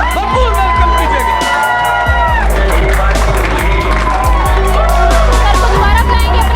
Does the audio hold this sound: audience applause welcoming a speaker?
yes